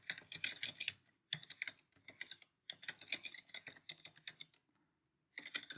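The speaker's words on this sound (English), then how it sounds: "I can start typing in things here" Quick bursts of typing on a computer keyboard, with rapid clicky keystrokes in clusters separated by short pauses, close and clear with no talking.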